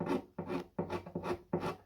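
A hand scraper removes the wood finish from a custom Martin guitar in five rhythmic, close-up rasping strokes, each a dry scratchy pull separated by short pauses.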